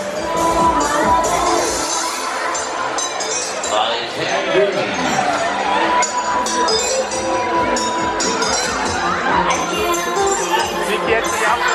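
Riders screaming and shouting on a Musik Express fairground ride at a funfair, a dense, continuous crowd roar with loud music and clinking mixed in, sustained without letup.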